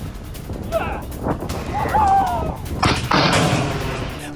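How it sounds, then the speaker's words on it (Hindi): A Ukrainian tank brigade fires on Russian positions on a battlefield, with heavy booming blasts and rumbling impacts in quick succession, loud and reverberant amid a busy, noisy field recording. "यूक्रेनी टैंक ब्रिगेड ने बैटलफील्ड में कैसे यहां पर बिल्कुल आग बरसा दी है।"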